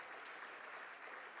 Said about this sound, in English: she draws a round of applause